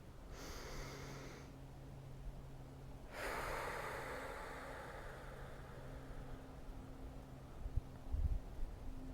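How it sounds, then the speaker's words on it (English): A single deep inhalation and slow exhalation sit close and soft during a guided meditation, over a quiet steady low hum with faint mountain ambience. "Take a deep breath."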